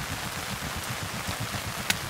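Rain falling in bad weather outside a lavvu tent, a faint steady patter with a low pulsing rumble and one small sharp tap near the end.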